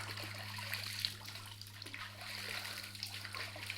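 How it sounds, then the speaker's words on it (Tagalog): A flowing water current at Tanay, Rizal makes a faint, steady rushing trickle that continues without a break over a low hum, with no clear speech. "Ito na ang agos."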